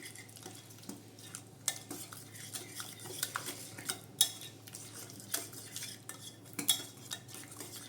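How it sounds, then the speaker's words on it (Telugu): A whisk beating ginger garlic paste and lemon juice together in a bowl, giving a quiet, continuous clatter of tines against the bowl with small irregular clicks, close and without talk. "1 స్పూను అల్లం వెల్లుల్లి పేస్ట్, ఒక హాఫ్ లెమన్ వేసుకొని మొత్తం ఇవన్నీ కూడా ఈ విధంగా విస్కర్తో కలిపేసుకోవాలి."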